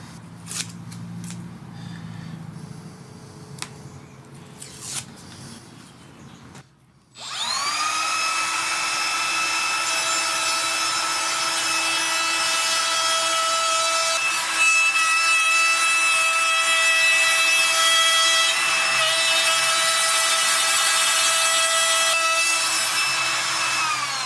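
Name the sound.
trim router with pattern bit cutting wood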